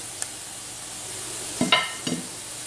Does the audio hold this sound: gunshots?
no